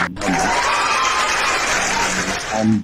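A burst of crowd clapping that runs continuously for a few seconds, dense and loud, with faint voices underneath.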